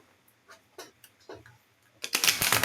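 Tarot cards are shuffled close by in a quiet room. Several soft, separate flicks come first, then a brief, louder burst of riffling at the end.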